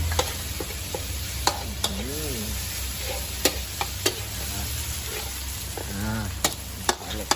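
Clams and holy basil stir-fried in a pan, a steady sizzle under sharp clicks of a spatula scraping metal at irregular intervals, with no one speaking.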